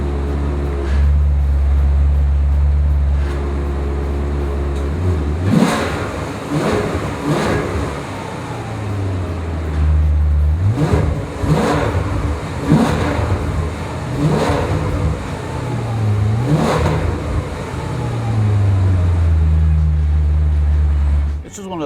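A 2006 Maserati GranSport convertible engine idles low, then blips through a series of sharp throttle revs in sport mode, each rising and falling quickly, loud and close, before settling back to a rumbling idle.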